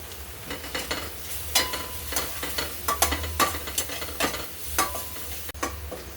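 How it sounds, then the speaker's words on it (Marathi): Onion puree sautéing in oil in a pan until golden, for chole, with a steady soft sizzle broken by repeated scraping strokes of a spoon stirring against the pan, close and moderately loud, with no voices. "कांद्याची प्युरी सोनेरी कलर येईपर्यंत परतून घ्यायची।"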